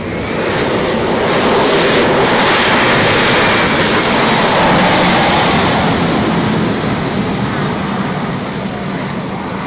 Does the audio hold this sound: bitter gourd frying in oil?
no